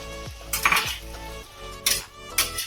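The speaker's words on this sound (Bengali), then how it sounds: "এটা একটু ভালোভাবে নাড়াচাড়া করে নেব" Chicken stirred with a cornflour slurry in a pan for crispy fried chicken, metal utensil clinking and scraping against the pan in a few separate bursts over a faint sizzle, close up and without speech.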